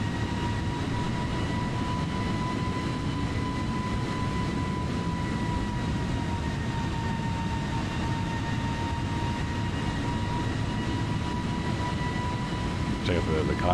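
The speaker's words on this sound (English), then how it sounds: "Hear the engines thrusting up and down." Jet engines of an Airbus A320 (A32nx) in Microsoft Flight Simulator 2020 hum and rumble steadily, with sustained high whine tones that slowly shift pitch, and a faint voice comes through near the end.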